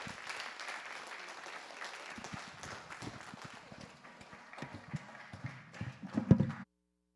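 An audience claps at a Civilian Conservation Corps graduation ceremony, a moderate patter of many hands that thins out, flares briefly near the end, then cuts off.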